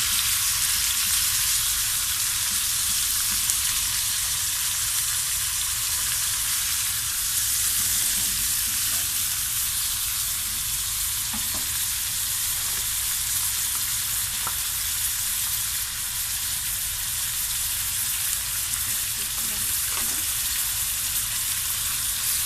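Liver fries in a pan with a constant, dense sizzle and spatter that holds at an even level from start to finish, close and unbroken, with no speech.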